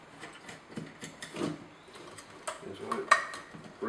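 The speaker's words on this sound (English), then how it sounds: "we'll just start by undo the grub screws and open the lid." Small metal clicks and scrapes come from grub screws being undone and the lid of a Tapepro flat box being opened, faint, close and irregular, with light tool taps and rattles.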